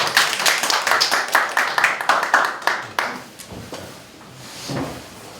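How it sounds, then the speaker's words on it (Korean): Hands clap for about three seconds at a Korean candidates' meeting with global partners, a modest group of distinct claps that then fades into quiet room tone and murmuring. "박수 한번 쳐주시죠"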